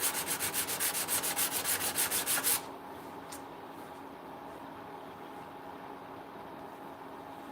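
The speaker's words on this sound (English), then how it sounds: "Because we want the back side of this chisel" The steel back of a chisel is rubbed flat on a sharpening surface in quick, rhythmic back-and-forth strokes, about a dozen hissing scrapes, then the rubbing stops and only quiet room noise remains.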